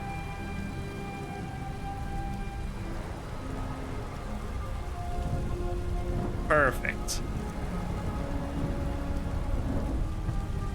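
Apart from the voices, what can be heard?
heavy rain in a video game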